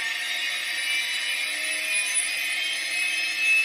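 Scale Bell 222 RC helicopter flying back toward its takeoff point, giving off a steady high-pitched rotor and motor whine with a faint background hiss, even and unbroken throughout.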